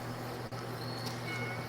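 A cat gives a short meow, faint against a steady background hum.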